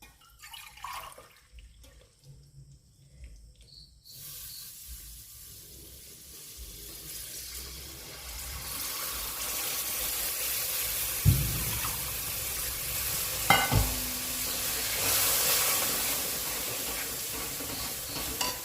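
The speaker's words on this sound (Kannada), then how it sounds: "ನೀರು ಪಾಡೋಡು ನೀರು ಪಾಡ್ನಾಗ ಒಂಚೂರು ಜಾಗ್ರತೆ ಇಡ್ಬಾಡೋಡು" Water goes into a hot pan for a quick jaggery-and-wheat sweet, first quiet stirring, then a rising loud sizzling hiss with a couple of sharp bursts as the water hits the heat, continuing steadily to the end.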